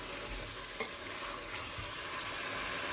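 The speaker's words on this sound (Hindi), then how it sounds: "अब हम इसको भूनेंगे अच्छी तरह से।" Chicken with radish pods and spices frying in a pan, giving a continuous dense sizzle with soft stirring movements underneath, close and steady throughout.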